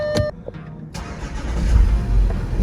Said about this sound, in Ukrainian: Ще раз завожу.